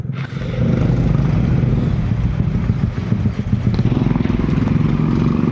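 Motorcycle engines rumble and sputter close by on a highway, a continuous growling with rhythmic pulsing as they go past.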